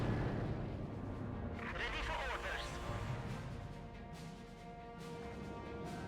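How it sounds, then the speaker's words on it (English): An artillery strike in Company of Heroes, with heavy booming impacts and rumbling blasts layered amid battle noise while a commentator talks over much of it. "it will get an artillery strike off"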